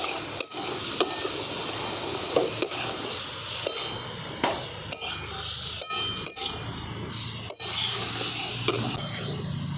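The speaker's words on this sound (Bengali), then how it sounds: "এই পনিরটা দিয়ে আমি সমস্ত সবজিগুলোর সঙ্গে আমি একসাথে খুব ভালো করে মিশিয়ে নেব।" Spiced paneer being stirred with vegetables in a frying pan: a steady sizzle with repeated scraping and knocking of a spatula against the pan at irregular intervals, close and clear, with no talking.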